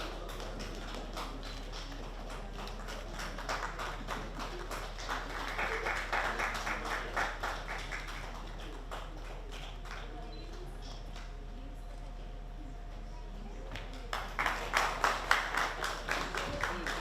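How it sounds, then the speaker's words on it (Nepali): A hall audience at a Nepali novel launch claps while khada scarves are offered, a faint spattering of hand claps that rises in patches, under quiet background voices. "खादा अर्पण भइरहेको बेला ताली बजाउन भुल्नु भएन भने यो स्वागत तपाईँको पनि हुनेछ"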